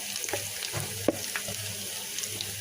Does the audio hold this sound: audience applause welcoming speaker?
no